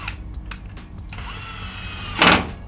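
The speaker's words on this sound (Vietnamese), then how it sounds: "Đó, nó đóng cái rồi nó dừng nha anh em." A Dewalt DCF801 12V brushless impact driver in Precision mode drives a screw slowly, with a steady low motor whir, a few faint ticks, and one short loud burst of hammering near the end before it stops.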